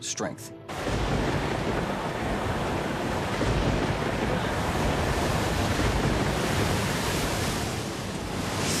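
Loud, continuous roar of storm wind and crashing sea waves during a severe storm flooding Boston, a dense wash of noise that barely lets up after a short opening moment.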